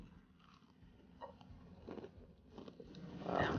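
Quiet, close crunching as someone bites into and chews a crisp British biscuit, with several distinct crunches spaced out over a few seconds.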